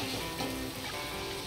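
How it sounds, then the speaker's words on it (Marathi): Prawns roasting in a pan for prawn masala, producing a dense, continuous close-up sizzle with light stirring. "कोळंबी ह्यात चांगली छान भाजून घेऊया"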